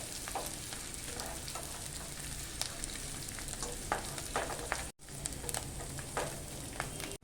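Edible gum (dink) deep-frying in hot oil for brown rice methi laddu, giving a continuous crackling sizzle with scattered pops, heard close and alone with a brief break near the end.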